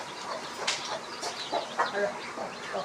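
A hen with her chicks on a poultry farm, soft clucks and peeping calls rising repeatedly over steady background noise, with a person speaking nearby.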